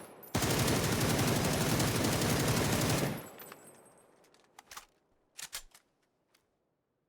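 A long burst of rapid automatic gunfire in a video game runs for about three seconds, loud and dense. It cuts off into a few scattered metallic clicks and clacks.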